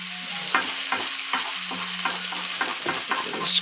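Food stirred and scraped from the sides toward the center of a hot Chinese wok: repeated rhythmic scrapes of the utensil over a constant sizzle, close and loud, no voices.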